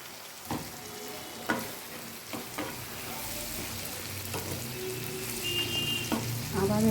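Bell peppers fry in a pan with steady, close sizzling, with several sharp scraping knocks of a utensil spaced through the cooking as they are stirred.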